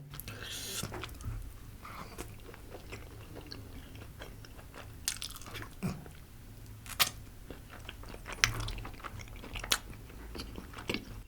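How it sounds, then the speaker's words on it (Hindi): Biting and chewing of butter chicken with gravy, eaten late at night at a Daryaganj food spot, soft wet mastication with occasional sharp crunchy bites, close and fairly quiet against faint background murmur. "एक और बाइट लेके देखते हैं जरा।"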